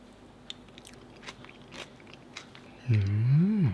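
Mashed potatoes with onion, crispy bacon and gravy being eaten, with soft crunchy bites and chewing close to the mic, then a loud rising-and-falling voiced sound at the end.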